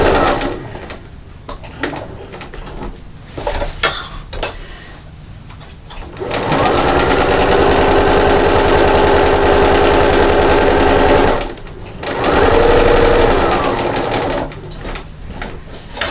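A sewing machine stitches a fabric bag with a lengthened stitch, running in steady mechanical bursts with a loud continuous stretch in the middle, then a short pause and another run.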